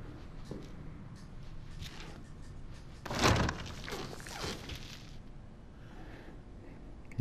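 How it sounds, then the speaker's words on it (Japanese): A door opens in the horror video game Resident Evil 7, a single loud thump with a scraping swing rising above quiet ambient hum, followed by faint fading creaks. "一番近い扉に入ってみますね"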